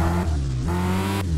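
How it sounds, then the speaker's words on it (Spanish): Racing-game car engine droning loud and steady with shifting pitch, the tires of a Nissan GT-R R35 sliding and losing grip, in one continuous close stretch with no talk. "con esas ruedas derrapan mucho"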